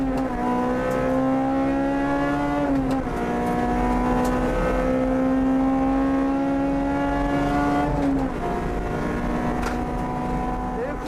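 Honda Type R front-wheel drive car lapping a race track, its engine loud and close with steady high-revving tone that drops briefly at two gear changes around three and eight seconds, then climbs again.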